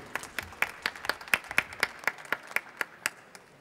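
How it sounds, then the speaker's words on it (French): An audience at an environmental technology award ceremony claps in a regular, near-unison rhythm, with sharp, evenly spaced claps over a few seconds in an indoor hall. "on l'applaudit"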